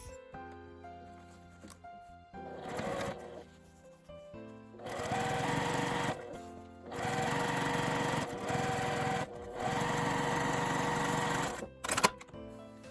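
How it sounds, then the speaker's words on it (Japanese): A sewing machine stitches a seam on a tweed tote bag in three long steady bursts of rapid mechanical whirring, separated by short pauses and a brief click near the end. "反対側は下まで縫います。"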